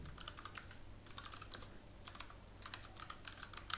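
Rapid keystrokes on a computer keyboard entering a Gradle version command in a Windows CMD window, clicking in quick irregular bursts with brief pauses, close and fairly quiet, with no voices.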